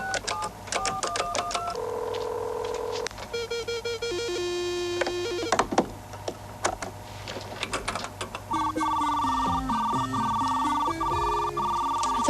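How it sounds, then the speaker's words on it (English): A telephone dials into a school computer, producing close, loud sequences of dialing tones followed by warbling modem connection tones and steady electronic beeps. "Dialing into the school's computer."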